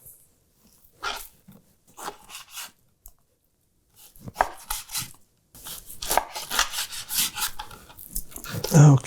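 A sharp knife slices pork tenderloin into medallions on a cutting board, producing intermittent soft cuts and board taps that grow busier and more rhythmic toward the end.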